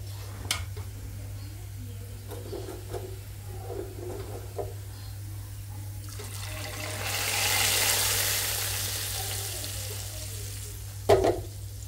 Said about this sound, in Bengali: ডালের জন্য হলো এই দিলাম বাগার